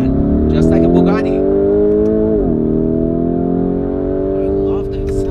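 Lamborghini Urus engine revving and accelerating, a loud close rising engine drone with harmonic tones that climb, dip briefly around a gear change, then keep pulling, with voices talking over it.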